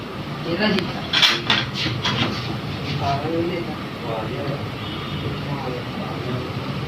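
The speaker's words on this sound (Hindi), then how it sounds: "अब हम इसको सीखों पे लगाएंगे।" Marinated beef pieces slid onto metal seekh skewers for spicy tikka boti, giving sparse light metallic clinks and scrapes, the busiest burst near the start, over steady background noise and talk.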